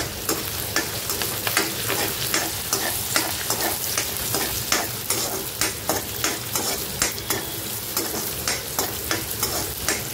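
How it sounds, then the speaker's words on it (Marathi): Chopped onion and curry leaves fry in hot oil, giving a steady crackling sizzle close by. Frequent sharp scrapes of a spoon stirring in the pan cut through it, with no one talking. "आणि आता तेल गरम होत आहे, त्याच्यात मी टाकणार आहे कांदा आणि कढीपत्ता"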